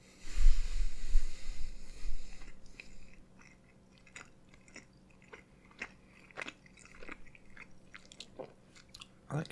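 Close-miked chewing and crunching of Indian food, with wet mouth sounds and sharp bites. A louder burst of chewing comes early, then a quieter stretch with scattered crisp clicks and crunches.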